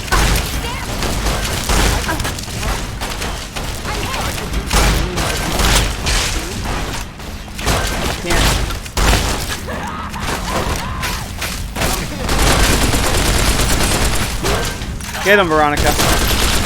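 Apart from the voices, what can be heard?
gunfire from Fallout: New Vegas video game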